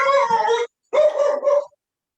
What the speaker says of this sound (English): The dog agrees as well.